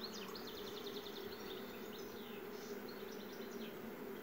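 Honey bees buzz at an opened beehive in a steady, dense swarm drone, fairly faint and continuous with no speech over it.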